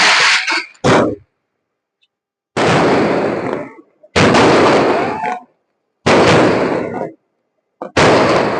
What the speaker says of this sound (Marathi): फटाके पण सुटले